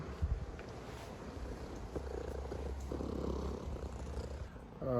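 A cat purrs in a steady, low, continuous rumble close by, holding fairly even in level for several seconds.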